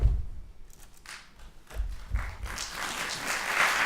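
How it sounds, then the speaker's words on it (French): A circus audience starts clapping for a performer, with a few thumps and scattered claps that build into fuller applause by the end, heard from a middle distance. "Cher public, je vous demande d'applaudir notre artiste connu du monde entier."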